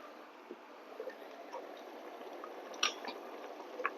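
Fish curry of catla with flat beans coming to a boil in a covered pan, giving faint, sparse bubbling pops and soft drips over a quiet background.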